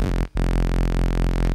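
A deep synthesized sub bass tone with a wobble effect at a 1/8 rate, holding steady and loud on its own and cut by one brief gap near the start.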